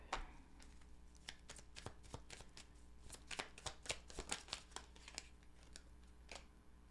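A deck of tarot cards is shuffled and a card drawn, giving soft, quick papery riffles and flicks in an irregular patter, close and quiet with no talking.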